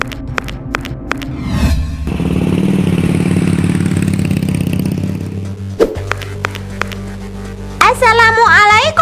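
A motorcycle engine runs at a steady mid-pitched hum, close and rising as it rides off, with clattering, a brief engine rev and people talking over it.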